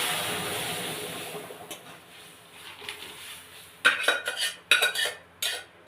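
Chana dal lentils are stirred into onion masala in a pan, with a soft cooking hiss followed by several sharp scraping and clinking knocks of a utensil against the metal pan.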